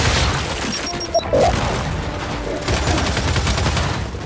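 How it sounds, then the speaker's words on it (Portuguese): Gunfire and a fragmentation grenade blast in the Gears 5 video game, with a steady wash of battle noise, brief sharp impacts and a louder burst near the middle; voices talk over the combat. "Lançando granada de fragmentação!"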